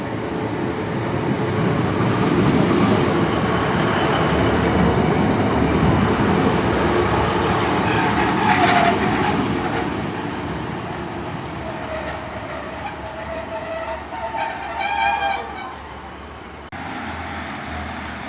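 Class 150 diesel unit 150-282 pulls away from Cathays station on a service to Aberdare, a loud steady rumble and wheel noise that fades, with a brief high squeal and clatter near the end.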